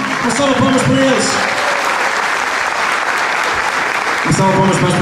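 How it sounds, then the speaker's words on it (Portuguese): Audience at a 2016 graduation-style finalists' ceremony claps loudly and continuously, dense applause filling the whole stretch with faint voices beneath. "salva de palmas para eles."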